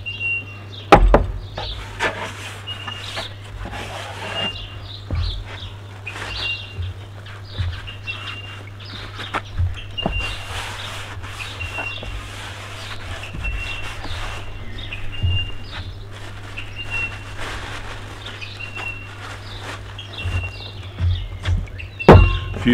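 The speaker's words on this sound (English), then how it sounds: "Few birds in the background." Birds chirping faintly in the background outdoors at a campsite, with a steady low hum, occasional footsteps and handling knocks in the foreground.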